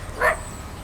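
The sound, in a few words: dogs barking at a dog run in a park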